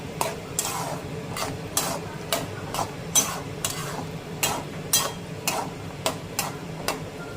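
Curd being stirred into an onion gravy with soya chunks, a rhythmic series of spoon scrapes and taps against the pan, roughly twice per second, over a soft background sizzle; no talking.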